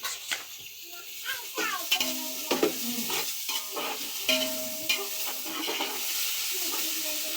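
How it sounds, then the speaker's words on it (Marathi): Onions fry in hot oil for biryani, crackling and hissing under repeated metal scraping and stirring clatter in a pan. Faint background sounds come and go. "आता कांदा घातलेला आहे गरम तेलामध्ये"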